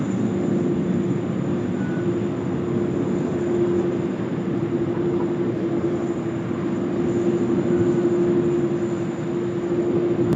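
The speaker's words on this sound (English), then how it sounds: "Garuda's on the roll now as well." Garuda airliner on its takeoff roll at Sydney Airport, a steady, continuous jet engine roar with a sustained tonal whine, fairly loud and unbroken throughout, with no voices.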